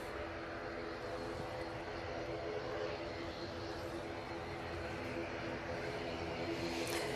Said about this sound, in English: Virgin Atlantic A350 1000, now crossing over to a 3 right.